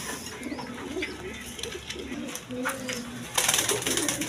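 Domestic pigeons kept at a breeder's loft coo in a steady low murmur, several birds overlapping close by, with a brief louder rustle near the end.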